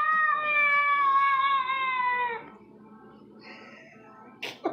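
A cat gives a long, loud drawn-out meow close by, lasting over two seconds, followed by quieter shuffling and a brief soft noise near the end.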